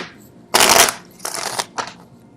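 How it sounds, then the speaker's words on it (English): Tarot cards riffled and shuffled in three quick bursts, the first longest and loudest, close up with no talking. "I don't know why people like to see the card shuffle live"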